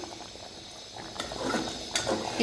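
Rice in an open pressure cooker pot bubbles at a boil, a soft watery gurgle that swells in the second half, with a couple of sharper clinks near the pot.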